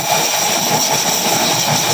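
Steady, loud blower on a Super Kalan stove running at its number 2 setting, a continuous broadband rushing hum with no breaks.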